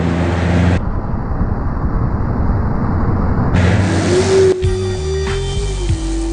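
A car engine revving and accelerating in the BeamNG.drive driving simulation while overtaking a truck, a loud sustained roar that rises in pitch, with a brief break partway through.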